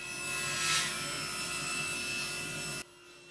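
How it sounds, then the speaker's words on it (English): Wood fence pickets being sawn into narrow strips for a garden trellis, a steady rasping cut running close and continuous for nearly three seconds, then dropping away to a quieter room tone. "you can go right ahead and cut all of the wood into strips at this point"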